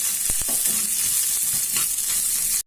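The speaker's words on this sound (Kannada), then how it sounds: "ಉಳ್ಳಾಗಡ್ಡಿ ಸ್ವಲ್ಪ ಕೆಂಪಾಗ್ಯಾವ." Sliced onion fries in a pan with green chillies and chopped coconut, a steady close hiss of sizzling oil with a few soft clicks of stirring.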